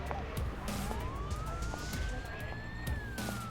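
A wailing police siren in the Emergency 4 video game rises in a slow sweep over steady background game noise, heard alone without talk.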